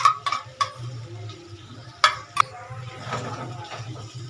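Chicken with beaten sour yogurt is stirred in a pan over a low flame, with sharp metallic clinks and scrapes of a utensil against the pan and a low background hum.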